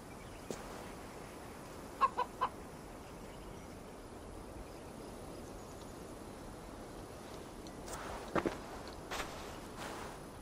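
Chicken clucking in the video game Assassin's Creed Valhalla, faint scattered clucks and soft footstep-like taps over a steady low background hiss.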